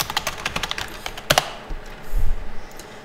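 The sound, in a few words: typing on a computer keyboard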